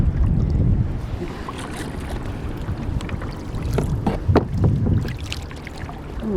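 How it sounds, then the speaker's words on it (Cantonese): Water sloshing and dripping around a small boat as paddles dip at a Maldives resort, with irregular splashes and knocks close by and light wind in the background. "爬呢個獨木舟"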